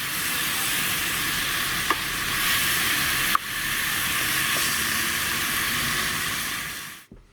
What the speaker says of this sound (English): now that bacon's cooking away nicely